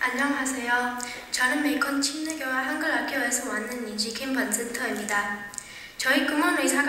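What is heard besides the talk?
No distinct noise like a dog, phone or traffic.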